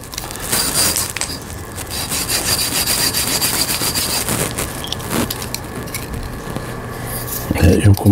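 Continuous rasping scrape of sandpaper grinding a damaged hole in a metal sewing machine needle plate, close and fairly loud, with a low mechanical hum and a brief clatter near the end.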